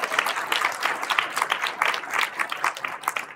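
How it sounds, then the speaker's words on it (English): An audience at a business talk gives a round of applause, continuous mid-distance clapping from many hands with no talk over it. "Everybody give her a big round of applause."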